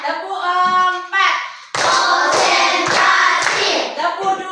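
A class of children doing a counted clapping game claps rhythmically and loudly for a couple of seconds after a chanted voice, with voices resuming briefly at the end.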